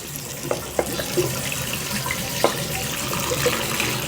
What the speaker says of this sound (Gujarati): આપણે પાણી ચાલુ કરી દઈએ